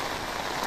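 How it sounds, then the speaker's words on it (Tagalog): Heavy rain pours down steadily in a rural Philippine yard, a dense, even hiss that stays loud and close throughout with no talking. "talagang bumuhos yung napakalakas ng ulan"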